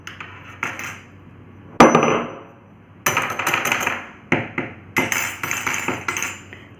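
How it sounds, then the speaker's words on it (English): Metal pieces struck against a hard surface, a series of sharp clanks and taps with bright ringing tails, one louder strike followed by clusters of quicker hits, close up and without speech. "When we beat the metal, they produce a special sound."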